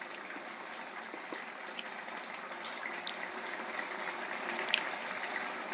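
A covered pot of ridge gourd and prawn curry simmering with no added water, giving a faint, continuous bubbling hiss with tiny scattered pops, quiet and close, with no talking.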